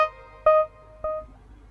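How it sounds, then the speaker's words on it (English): Subway alert tone: three short electronic chime notes fall in pitch about half a second apart, each ringing briefly, heard clearly and alone. "it's just like an alert tone in a subway"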